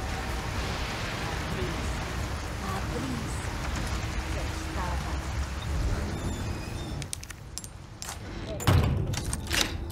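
Rain falls as a steady, dense hiss in the Resident Evil 4 Remake video game, with scattered thuds and clatter toward the end.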